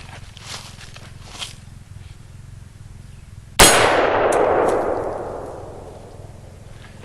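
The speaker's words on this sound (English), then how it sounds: "Next will be 20-inch barrel, 1 in 7 twist AR-15 with a 62 grain." AR-15 with a 20-inch barrel and 1-in-7 twist firing a 62 grain round into an AR500 steel plate: one sharp, loud clang that rings and fades over several seconds after a quiet start.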